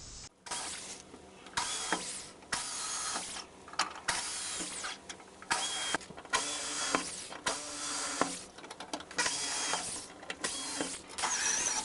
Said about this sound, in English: I then used a center drill to drill the center of each spot weld.